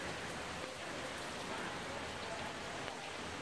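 A rainstorm in Cuenca, Ecuador, drums down in a constant, dense hiss of falling drops striking nearby surfaces, steady and loud from start to finish without any talking.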